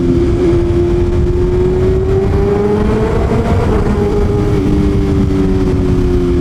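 A BMW S1000RR sport motorcycle engine holds a loud, steady rev, its pitch rising slowly and then easing back, heard close and without talk.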